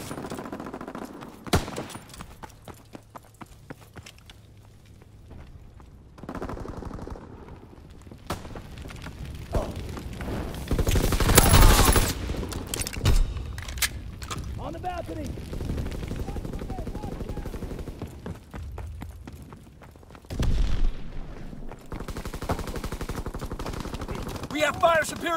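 Gunfire in Call of Duty: WWII during a Team Deathmatch match on the Occupation map, with bursts of automatic and single shots at varying distances, loud repeated volleys and a heavy blast, mixed with game voice callouts.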